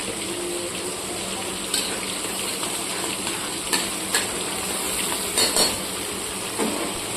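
Onion and tomato paste fry in a pan for a khoira fish curry, a steady close sizzle with a few clinks and stirring scrapes scattered through.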